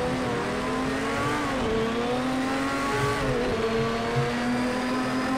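Porsche 917 LH race car in Project CARS 2 at Le Mans in a thunderstorm, its engine holding a loud, steady high drone with shifting harmonics and slight pitch dips, alone without talk.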